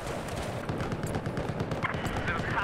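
Battlefield 4 gunfire, a dense stream of rapid shots and distant bursts pattering steadily under the game's noise, with a voice talking over it.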